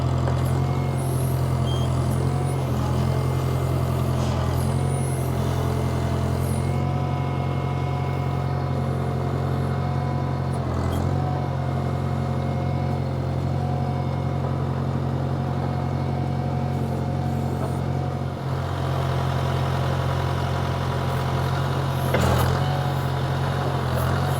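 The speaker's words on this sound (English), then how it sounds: "I'll keep walking the backhoe that way as I'm digging from this side to meet this trench." The diesel engine of a 50-year-old backhoe runs steadily while it digs a trench toward a barn, a loud, close, continuous low rumble with occasional clanks and hissing bursts, and no talking.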